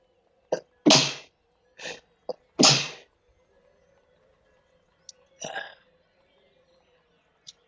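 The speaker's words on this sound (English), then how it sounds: "I'm going to sneeze." A person sneezes in a loud, close burst, with several sharp sniffs and gasps before it and a smaller sneeze or sniff a few seconds later, heard over a low steady hum.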